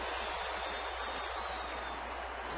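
Baseball crowd at a New York Yankees at Arizona Diamondbacks game in June 2010, a steady, distant broadband roar of cheering and applause that holds at an even level for a couple of seconds.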